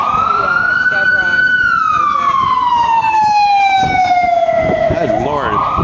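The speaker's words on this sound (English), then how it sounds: "what's up with all the damn, you know, fire trucks?" A fire truck siren wails loud and close on a San Francisco street, its long tone sliding slowly downward as it passes, with traffic rumble and a voice speaking underneath.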